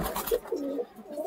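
Kesori pigeons from Shantipur giving a short, low cooing phrase of two or three soft notes, close and fairly quiet.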